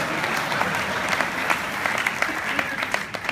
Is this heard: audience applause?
yes